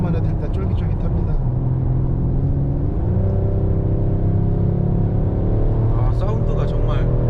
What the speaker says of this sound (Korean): 엔진 사운드만 해도 일단 쫄깃쫄깃합니다